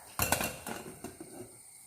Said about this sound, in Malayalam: നമുക്കിതൊന്ന് മൂടി വെക്കാം